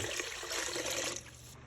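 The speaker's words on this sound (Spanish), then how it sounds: "agregar 2 litros de agua." Two liters of water poured into a pot of noodle and vegetable soup base, a steady broadband splashing rush that runs loud for about a second before dropping to a softer trickle, with no talking.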